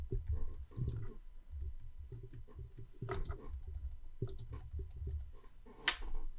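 Keys on a computer keyboard are pressed in short, irregular bursts of soft clicking while a spreadsheet is worked in Excel 2021, close and quiet with no talking.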